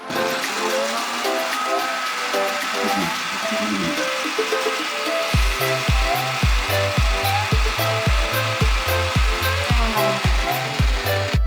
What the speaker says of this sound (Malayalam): ജെല്ലിന് നല്ലപോലെ അരച്ചെടുക്കാം.